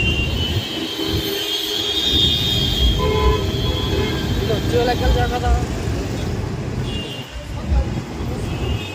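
Stalled city traffic on MG Road on New Year's night rumbles close by, with long car horn blasts sounding again and again while people talk nearby.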